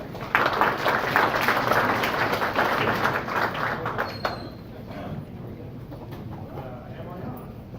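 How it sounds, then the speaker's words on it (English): Applause from a conference audience at the Voice in the Car Summit in San Francisco swells at first, then thins to scattered clapping and fades into quiet room noise. "Let's give a round of applause to Dave Robinett"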